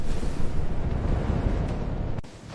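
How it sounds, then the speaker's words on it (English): Deep, rumbling underwater explosions roll continuously, heavy and muffled as heard inside a Soviet submarine's metal hull, ending in a sudden drop-off. "Each explosion shook the submarine's metal hull."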